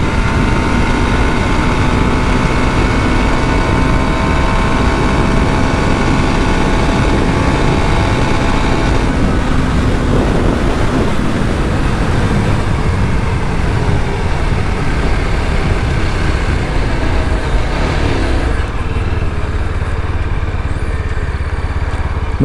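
A Yezdi Scrambler motorcycle engine drones steadily as it pushes toward top speed, with loud continuous engine noise and wind roar and a slight shift in tone partway through.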